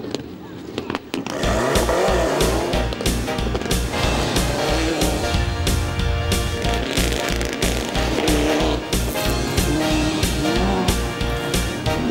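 Rally cars race along a 1.6-kilometer spectator stage beside a perimeter fence, their loud engines roaring and revving continuously with a steady rhythm of gear changes, with a voice over them.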